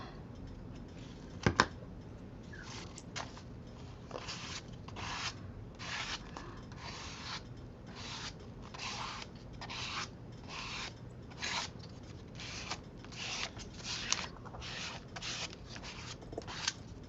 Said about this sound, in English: Okay, scrape the paint.